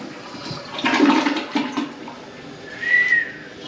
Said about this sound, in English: There's enough water in that tank for more than one flush